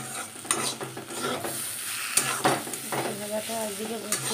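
Food frying in a pan in a home kitchen, a continuous close sizzle under repeated stirring and scraping sounds, with faint background tones and brief clatters.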